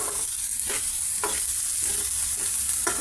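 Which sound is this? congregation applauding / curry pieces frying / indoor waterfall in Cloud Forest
curry pieces frying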